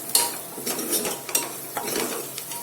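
Masala is stirred and fried in a pan for dal vanga, with a spoon scraping and clinking against the metal in uneven strokes over a soft, steady sizzle, close and fairly quiet.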